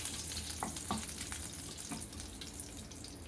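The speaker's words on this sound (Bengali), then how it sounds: "এবার ওই তেলেতেই আমি দিয়ে দেবো একটু ফোড়ন, এলাচ আর হচ্ছে একটু দারচিনির ফোড়ন।" Cardamom and cinnamon tempering fries in hot oil, giving a quiet, continuous sizzle with a few soft stirring scrapes.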